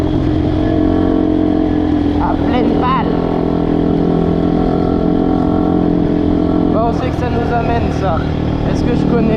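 Dirt bike engine still in break-in, climbing a hill with a constant loud buzzing drone and some revving swells, while someone talks over the motor.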